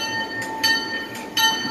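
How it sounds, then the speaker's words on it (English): A railroad locomotive engine is moved on the Osceola & St. Croix Valley Railroad, giving a steady mechanical rumble with a sustained tonal hum and a couple of brief metallic accents. "It looks like they're moving the engine"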